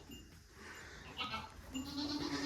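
Goats bleat faintly at a distance, one drawn-out call rising at the end over low background noise.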